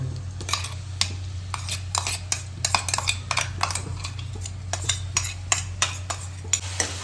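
Ground garlic and green chili masala is stirred into cluster bean bhaji in a pan, with a spoon scraping and clinking in irregular bursts over a faint low hum, close and alone.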